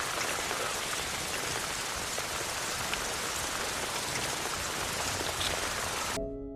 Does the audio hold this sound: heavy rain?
yes